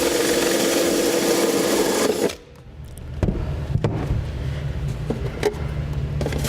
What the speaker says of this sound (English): We'll be using a 1-inch hole saw in order to do this.